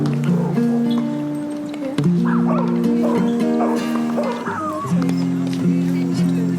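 Dogs bark and yip at a Montreal dog park in late July, loud and close, with whimpers and busy outdoor bustle between the barks.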